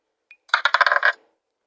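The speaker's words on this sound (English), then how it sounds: "roll a dice" Dice rolling in a Ludo video game, a short, bright rattle of quick clicks lasting under a second after a faint single tick, with no other sound.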